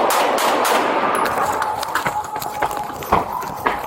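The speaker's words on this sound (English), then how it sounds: "shots fired" Police officer's gunshots ring out in a split-second encounter caught on bodycam, with sharp bursts over noisy movement and rustling, several loud cracks spaced irregularly near the mic.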